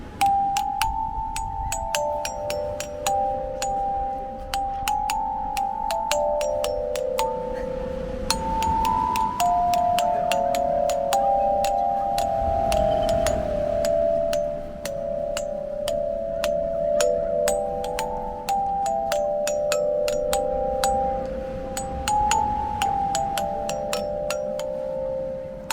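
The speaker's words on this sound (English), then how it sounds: "Seaside chimes." Seaside chimes on Boscombe Pier in Bournemouth ring out a bright, melodic tune of bell-like notes over an open outdoor background, continuing steadily throughout without talk.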